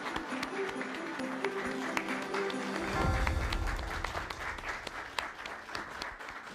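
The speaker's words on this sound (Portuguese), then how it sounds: "uma salva de palmas para o novo campeão mundial de xadrez, João Costa!" An audience at an award ceremony for a new world chess champion claps steadily, a moderate crowd applause that thickens midway and continues to the end.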